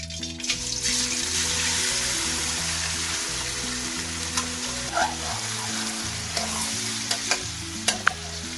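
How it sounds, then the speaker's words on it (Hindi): Meat frying in hot oil in a pot for aloo gosht, a steady sizzle being stirred, with scraping and occasional clinks of the spoon over a low hum. "ऑयल हमारा गर्म हो चुका है, तो अब हम इसके अंदर मीट को शामिल करेंगे।"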